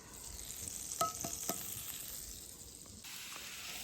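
Mushrooms fry in butter in a pan over medium heat, a quiet close sizzle with a few sharp clicks of stirring and a soft steady crackle underneath.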